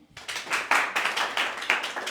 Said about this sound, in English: Guys, you must clap for him